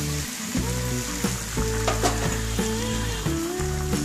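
Beaten egg sizzling in a hot pan, a steady bright frying hiss with faint scraping, close and continuous with no talk, while egg is cooked for a spicy filling for patishapta pitha.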